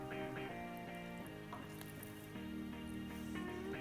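Celery, green pepper and Vidalia onion sizzling in melting butter in a pan, a steady soft frying hiss with faint stirring clinks, fairly quiet and alone.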